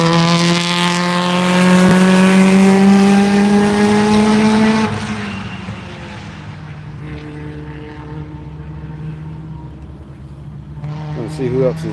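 Race cars idle and rumble while rolling onto the grid at Virginia International Raceway before a morning session of Tire Rack One Lap of America, with a loud harmonic engine drone that drops off partway, then another car revving near the end.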